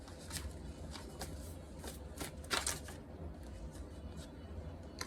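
A deck of cards being shuffled, with repeated riffling bursts and crisp flutters over a low steady background hum, close and clear throughout.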